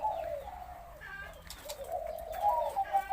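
Spotted dove, a large turtle dove kept as a prized singing bird, coos in a steady, fairly close phrase against a quiet background.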